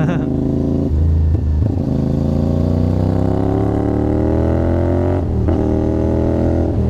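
Engine of a 450NK motorcycle on a ride, a steady loud drone close by whose pitch sinks slowly as the bike eases off, with a brief blip of revving near the end.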